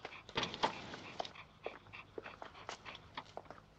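A dog whimpers and yips in short, faint, irregular bursts, close by, with soft snuffling and panting between the cries in an otherwise quiet indoor room.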